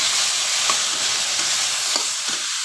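Okra (bhindi) fries in a pan over an outdoor clay stove, a close, steady sizzle broken by a few soft stirring scrapes.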